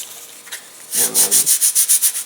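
Thin glider material for a Science Olympiad elastic-launched glider is sanded by hand in quick, even back-and-forth strokes, about eight close rasping passes after a brief light touch.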